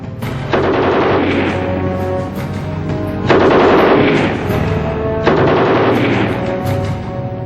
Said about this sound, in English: The MG-34, along with a later version, the MG-42, featured both the portability of a light machine gun and the sustained firepower of a mounted medium machine gun